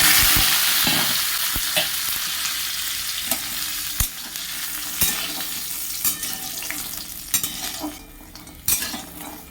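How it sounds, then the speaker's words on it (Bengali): Bori, small dried lentil dumplings, fry in hot oil with a loud, continuous sizzle that slowly eases. Sharp clinks and scrapes of a spatula against the pan punctuate it. "বড়িগুলো ভেজে নেব।"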